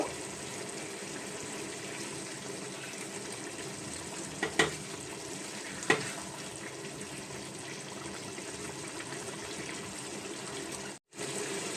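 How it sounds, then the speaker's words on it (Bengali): A banana flower and shrimp curry with ghee is stirred in a pan: a steady, low sizzle runs throughout, broken by two short spoon knocks against the pan, then a sudden brief dropout near the end. "এক চামচ ঘি দিয়ে ভালো করে নেড়ে চেড়ে এটা নামিয়ে নেব"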